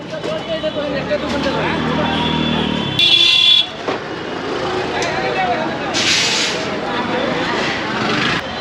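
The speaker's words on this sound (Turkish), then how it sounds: "Her yerde korna korna." Street traffic in India rumbles steadily while car horns honk in short bursts, mixed with background voices and engine noise.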